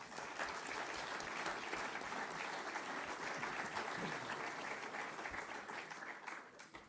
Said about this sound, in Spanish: un aplauso para Julieta